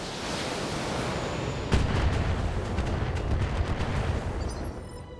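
Mech weapons in the BattleTech video game fire at a target: a sudden burst of gunfire-like blasts and rumbling impacts rising from a steady background, continuing loud and dense for several seconds.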